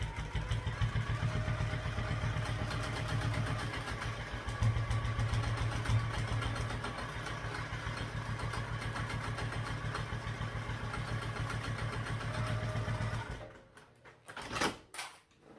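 A sewing machine stitches a backpack lining at a quarter-inch seam, its motor whirring in a fast, even stitch rhythm for about thirteen seconds before stopping, followed by a few soft handling knocks.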